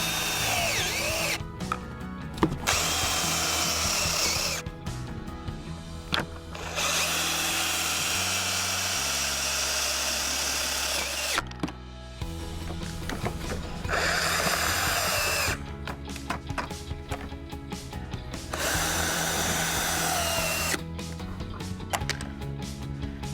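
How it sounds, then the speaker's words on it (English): Power drill drives screws through bottom rail brackets and a vinyl sleeve into an adjustable post mount on PolyRail vinyl railing, with several close whirring bursts that rise and stop, separated by short quieter gaps. "I'm ready to install the screws through the bottom rail bracketry and through the vinyl sleeve and into the adjustable post mount"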